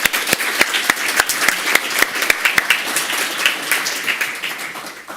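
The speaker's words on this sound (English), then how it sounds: "a big round of applause for all our panelists" Applause for panelists at a policy meeting on NDC implementation, a modest room of people clapping with distinct, sharp individual claps standing out near the microphone before it thins out.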